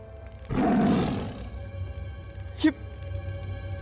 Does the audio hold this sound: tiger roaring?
yes